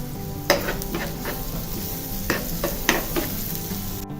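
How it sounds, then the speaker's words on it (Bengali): Finely chopped onion and carrot frying in oil while being stirred, a continuous close sizzle broken by several sharp spatula scrapes and knocks against the pan. "দিয়ে খুব ভালোভাবে তেলের সাথে একটু ভেজে নিব"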